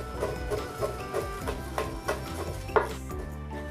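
Garlic cloves are chopped with a knife, a run of evenly spaced light knocks on a board repeating about twice a second, close and moderately loud, ending in one sharper hit.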